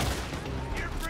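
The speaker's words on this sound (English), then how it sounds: "They're shooting from that building." Gunfire in Red Dead Redemption 2, a dense burst of shots sustained through a short stretch of game audio, with voices talking over it.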